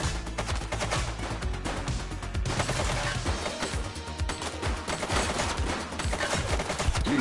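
Sustained gunfire in the police video game The Precinct, dense rapid automatic bursts continuing loudly and nearly without pause throughout, with no talking.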